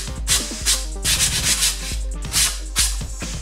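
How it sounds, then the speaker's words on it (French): Hand sanding with a sanding stick on a glued joint, giving a series of short abrasive rubbing strokes in an uneven rhythm, close and fairly loud, with no talk. "Un petit coup de canne à poncer."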